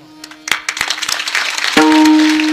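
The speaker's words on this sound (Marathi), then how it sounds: "तुम्ही टाळ्या वाजले म्हणजे तुम्हाला मुद्दा पटलाय." Applause from an audience at a Marathi kirtan begins as scattered sharp claps, then quickly thickens into a fuller round of clapping. A sustained harmonium-like tone enters near the end and carries on under the clapping.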